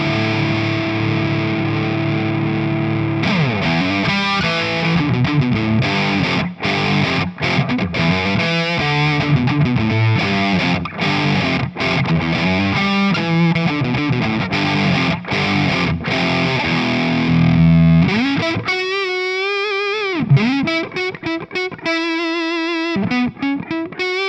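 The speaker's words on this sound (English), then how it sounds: "just let's give it a bit more distortion on this" A heavily distorted electric guitar played through a Vox Night Train 15H G2 valve head, loud and sustained with chords and wailing bends, ending in a few squealing high notes and sharp stops.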